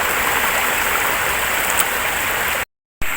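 A stream flows with a dense, steady rush of water close by, broad and unbroken except for a brief cut near the end.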